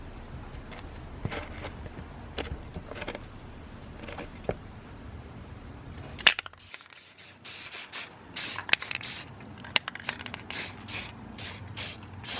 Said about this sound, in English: make sure you flip them over and spray paint the backs as well.